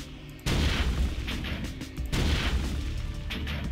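Retro video game gunfire while shooting at enemies, loud dense bursts of booming shots and pops in two rapid volleys, close and continuous with no talk.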